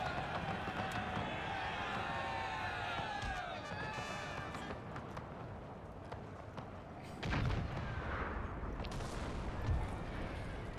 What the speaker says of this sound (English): is my gun firing on my own square?